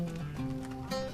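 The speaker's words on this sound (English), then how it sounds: "There's another bit where some horses are being stabled there." Horses stabled in a town in the game LOTRO, heard as soft, fairly faint clip-clop and snorting with tonal layers of ambient game sound underneath.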